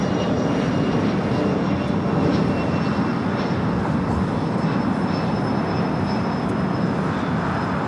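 A sports charter jet rolls for takeoff on runway 25 right at LAX, its engines producing a loud, steady broadband roar that holds evenly throughout with no voices over it.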